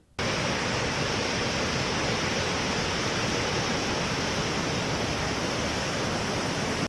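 Godavari River floodwater released through five raised dam gates, a loud, steady roar of rushing water that holds unbroken from start to finish with no voices.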